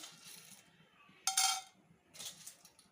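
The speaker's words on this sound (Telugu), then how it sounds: "తాలింపులు వేసుకుందామండి." Chana dal, urad dal, cumin and mustard seeds hit hot oil in a pan while tempering for milk upma, giving two short bursts of crackling sizzle close by, with quiet stretches between and no talking.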